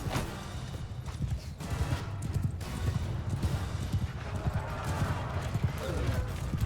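Rapid hoofbeats of galloping horses clatter continuously amid busy battle noise in the video game Mount & Blade II: Bannerlord, with bursts of gunfire and a neigh mixed in.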